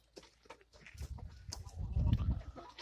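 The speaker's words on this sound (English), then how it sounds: "Silly chickens." Backyard egg-laying chickens cluck and murmur softly at close range, a few scattered calls building into a busier low clucking toward the end.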